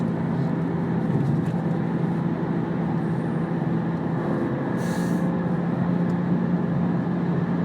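A BMW M2 cruising on the road, heard from inside the cabin as a steady, continuous engine drone and road rumble, with a brief brighter hiss near the middle.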